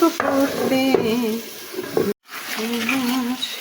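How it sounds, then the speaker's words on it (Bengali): Prawns cooking in a pan are stirred after the lid is lifted, a soft sizzle with a few spoon knocks, while a voice talks over it and a short gap cuts in midway. "একটু নাড়াচাড়া দিয়ে নিলাম ঢাকনাটা তুলে"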